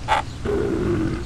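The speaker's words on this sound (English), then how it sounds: "Ah, a monster!" A monster in a children's airport exploration video game lets out a short, low, drawn-out growl after a brief higher chirp, moderately loud and alone.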